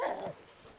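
A police dog at a training exercise gives a single brief, muffled bark up close, fading quickly into quiet background noise.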